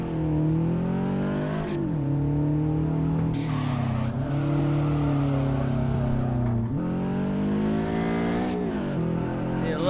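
A Subaru BRZ in the driving game DRIFT21 revs hard, its engine climbing and dropping through several gear changes in a steady, loud drone.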